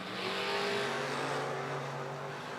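Drag race cars launching side by side, a Mopar against a Ramder wagon, with a loud sustained engine roar and rising revs close by, filling the whole stretch without a break.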